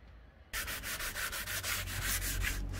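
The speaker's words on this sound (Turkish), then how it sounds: "Aynı şekilde zımparanın tüm kalan yerlerine aynı işlemi uyguluyoruz." Fine 400-grit sandpaper rubs back and forth over a PVC window frame in quick, even strokes, loud and close, starting abruptly after a brief quiet moment.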